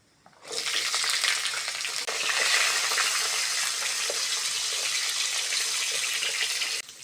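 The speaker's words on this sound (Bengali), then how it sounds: "তেলের মধ্যে গাজরটা দিয়ে দেবো" Carrot pieces dropped into hot oil with bay leaf, dried red chilli and panch phoron, a sudden loud hiss that holds as a dense, steady frying crackle for several seconds, then cuts off abruptly.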